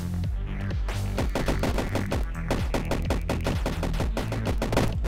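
Rapid automatic gunfire from the video game Karlson 2D rattles on without a break, a dense run of sharp evenly spaced shots that stays loud and close from start to finish.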